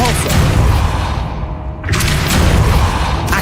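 The Depulso spell in Hogwarts Legacy is cast twice: each time a loud, forceful whoosh ends in a booming thud, separated by a brief lull.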